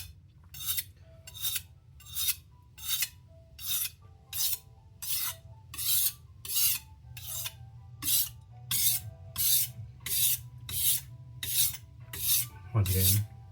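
A knife blade scrapes back and forth across a 1000 grit whetstone in about seventeen even, rasping strokes, close and crisp, with brief quiet gaps between each pass.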